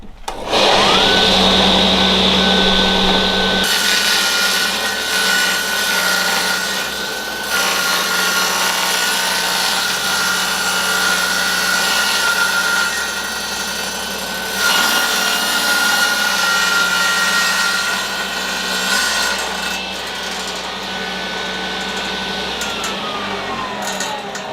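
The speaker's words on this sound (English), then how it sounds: "so we'll just take that down on the table saw" Table saw cutting through painted MDF board, a loud sustained whine with the pitch shifting as the blade loads up and spins down, close and continuous with no talking.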